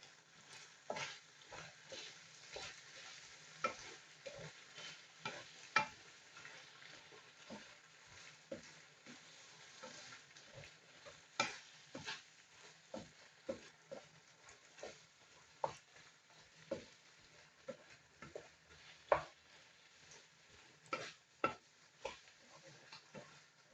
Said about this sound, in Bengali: ছানাটা আমি নেড়ে নিচ্ছি, নাড়িয়ে নিচ্ছি ছানাটা